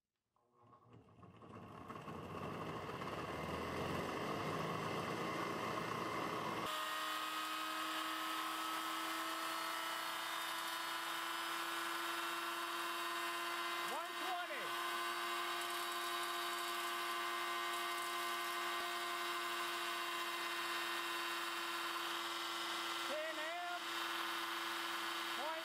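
Shop vac universal motor spinning up as the voltage is slowly raised, a steady high whine and hum that builds from quiet to a loud sustained drone with a faint pitch shift.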